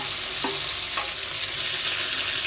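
Chili and taro stolons frying in a pan, a dense steady sizzle close up with a couple of brief stirring knocks early on, no voices.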